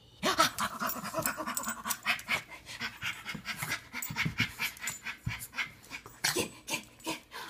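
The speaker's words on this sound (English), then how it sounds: "That's the sweetest dog I've ever seen." A small dog pants quickly and steadily close by, a rhythmic string of short breathy huffs with occasional faint whimpers.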